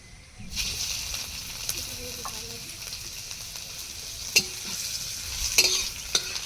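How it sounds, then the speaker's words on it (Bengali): Garlic dropped into hot oil for tempering gives a close, steady hiss and sizzle with a few sharp crackles and stirring scrapes, faint talk underneath. "এবার এর মধ্যে দিয়ে দেব রসুন ফোড়ন"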